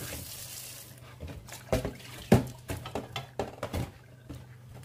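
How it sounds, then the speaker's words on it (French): Lukewarm water splashing and pattering during cleaning, a series of irregular close splashes and trickles growing busier over a few seconds, no talk. "Là, je vais encore nettoyer une fois avec de l'eau tiède."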